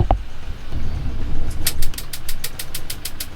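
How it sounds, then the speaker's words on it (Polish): Gas igniter switched on in a camper vehicle's kitchen, a rapid series of regular sharp ticking clicks starting partway through, heard over a low rumbling engine-like background hum. "tutaj słychać, jak jest włączona zapalarka od gazu"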